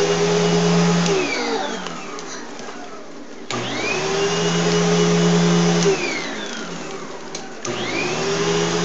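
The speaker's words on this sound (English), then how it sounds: "Please, let me vacuum." A vacuum cleaner drones loudly and steadily, its motor pitch dipping and rising as it cycles in three long stretches, no talking.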